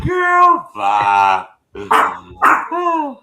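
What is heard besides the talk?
dog barking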